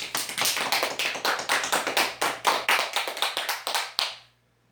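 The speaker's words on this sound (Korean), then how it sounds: "박수 한 번 더 치고" Church congregation clapping at a New Year's Eve service just past midnight, a steady run of sharp rhythmic claps lasting about four seconds and stopping abruptly.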